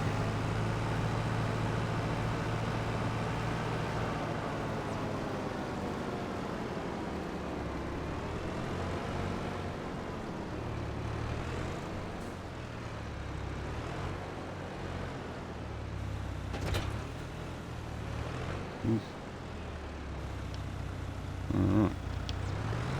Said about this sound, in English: Does this tractor make a decent plough tractor at all, or should it stay in the orchard?